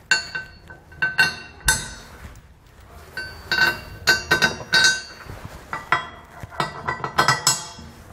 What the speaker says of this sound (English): we're just going to slide our carriage bolts down through the top.